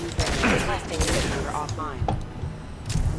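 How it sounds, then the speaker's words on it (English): Heavy pistol shots in the video game Mass Effect 2, several sharp cracks in quick bursts with in-game clatter, heard under someone talking. "Let's try the heavy pistol."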